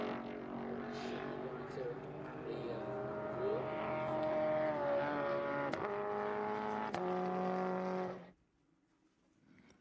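A 1966 Toyota Stout runs at Sonoma Raceway during the Velocity Invitational, a steady, tonal engine drone with rising and falling pitch that holds for several seconds, then cuts off abruptly into near silence.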